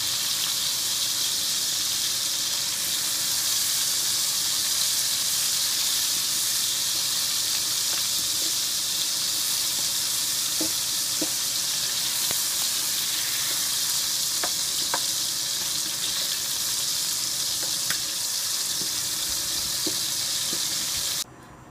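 Prawns fry in oil in a saucepan for a prawn malai curry, giving a loud, steady, close sizzle and hiss that runs unbroken for about twenty seconds before cutting off abruptly, with no voices.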